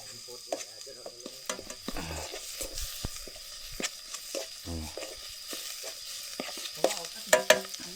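Ingredients stir-fried in a pan outdoors, a steady sizzle broken by repeated sharp scrapes and clanks of a utensil against the metal, close up, with brief voices in the background.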